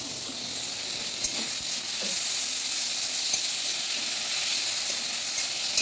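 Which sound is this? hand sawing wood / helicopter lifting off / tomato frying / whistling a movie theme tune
tomato frying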